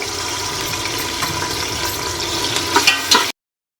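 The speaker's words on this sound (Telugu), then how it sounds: "సో పచ్చిమిర్చి ఆనియన్ అయితే ఫ్రై చేసుకుందాం మంచిగా" Onions and green chillies fry in oil with a bright, steady sizzle, then a few quick stirring clinks near the end before the sound cuts off abruptly.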